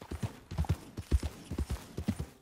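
Horse hooves from the video game Red Dead Redemption 2, a steady trotting clip-clop with even, bassy paired beats throughout a short stretch, alone with no voices.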